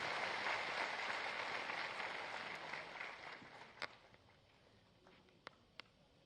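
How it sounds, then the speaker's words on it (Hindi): Faint applause from an audience at a state-level cow-based natural farming workshop: a soft wash of many hands clapping that thins out and dies away, leaving a few last scattered claps. "आप सबकी जोरदार तालियों के प्रणाम के साथ"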